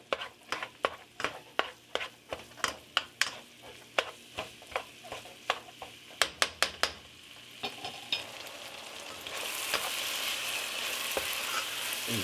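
Ground meat for one-pot taco spaghetti is stirred in a pot, a steady run of sharp spoon scrapes and knocks that gives way to a louder, continuous sizzle and hiss of frying.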